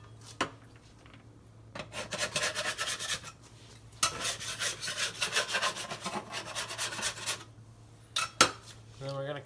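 A metal bench scraper rasps and scrapes across a work surface while loosening sourdough, coming in several close bursts of gritty scraping separated by brief pauses, with a steady low hum underneath.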